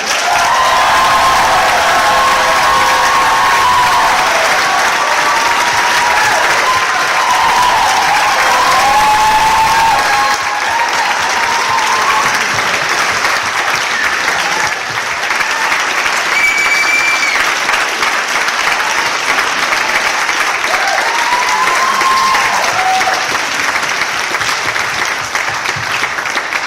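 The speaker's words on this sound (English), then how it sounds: "So a huge round of applause for her as well." Sustained, loud audience applause at a veterinary school carol service, a thick wash of many hands clapping that carries on for nearly half a minute, with faint cheers and whoops rising now and then.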